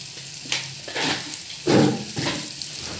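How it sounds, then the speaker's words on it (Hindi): Ginger, onion, green chilli and tomato frying with turmeric in a pan, a close, loud sizzle swelling with each stir and spattering burst. "प्याज, हरी मिर्च और टमाटर सब कुछ डालकर अच्छे से कर लेते हैं फ्राई, हल्दी डालकर"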